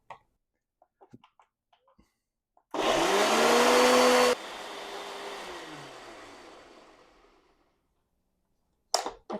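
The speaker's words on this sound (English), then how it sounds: "I'm going to blend the tomatoes" A kitchen blender blends tomatoes in a loud, steady roaring whir that lasts under two seconds, then drops to a lower hum and winds down gradually, with small clicks and handling noises before and after.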